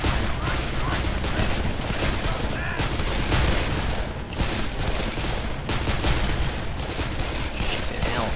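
Dense gunfire in the video game Darkest of Days, continuous bursts and volleys filling the whole stretch at steady loudness, with faint speech mixed in.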